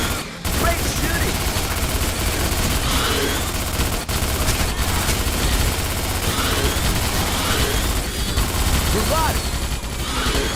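Rapid, sustained gunfire from the Starship Troopers video game, dense overlapping automatic bursts rattling without pause across the whole stretch, loud and close, with occasional brief gaps.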